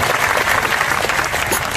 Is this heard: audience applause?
yes